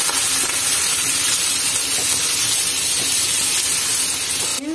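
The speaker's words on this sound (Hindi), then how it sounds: "अब इसको 2 से 3 मिनट अच्छी तरह मैं फ्राई करूँगी चिकन का।" Chicken frying with a tablespoon of ginger-garlic paste in a pan gives a steady, dense sizzle and hiss, close and continuous throughout with no voices.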